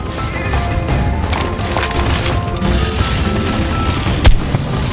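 In the Ark Mobile video game, gunfire rattles steadily at a Carno dinosaur, with dense booming shots and cracks over several seconds and one louder blast near the end.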